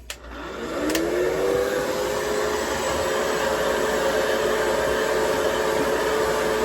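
A hair dryer starts with a click and rises to a steady, close whooshing hum while blow drying a full beard after lotion is applied, running on alone without talk.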